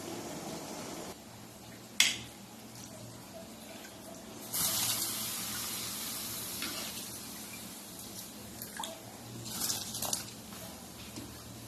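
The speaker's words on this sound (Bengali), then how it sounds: "এখানে জল গরম হয়ে গেছে এখন হাঁড়িতে চালটা দিয়ে দেবো" Soaked rice poured into a pot of hot water for home-style chicken biryani, a soft watery splash and pouring rush over a low steady hum, with a sharp knock near the start.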